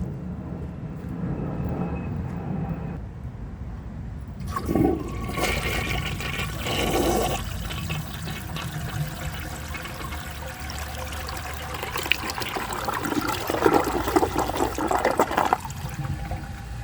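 A 1981 Briggs Conserver concealed jet toilet flushes with a raised water level and dirt in the bowl: a loud rushing surge of water, then a long gurgling refill and trickle close by, no talking.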